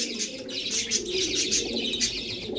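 Aliwala pigeons in a loft coo steadily and close by, their layered, overlapping calls mixed with occasional chirps, with no talking.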